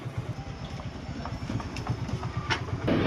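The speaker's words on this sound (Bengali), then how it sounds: "ট্রেন ভাই গাড়ি গিয়েছে, গাড়ি খটখট করে।" A passing train gives a rhythmic clickety-clack of wheels over rail joints, a steady run of low thumping beats at moderate distance with rumble underneath.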